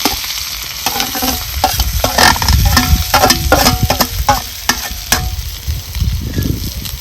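Crushed garlic thecha with cumin sizzles steadily in a hot pan, with loud continuous frying crackle and repeated spatula scrapes and stirs.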